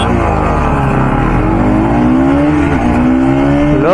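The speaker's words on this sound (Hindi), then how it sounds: "अभी मैं बाइक स्विच करता हूँ और अभी मैं चलाने वाला हूँ NS200" A 2024 Bajaj Pulsar NS200 motorcycle accelerates hard in a drag race. The engine note climbs through rising revs and drops sharply at gear shifts before climbing again, loud and close throughout.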